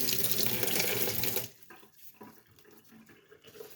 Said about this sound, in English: Hopefully that water is not too loud